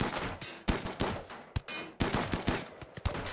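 Rapid overlapping gunfire from a RimWorld colony firefight, a dense chaotic stream of sharp shots and bursts filling the whole moment, loud and continuous with no talking.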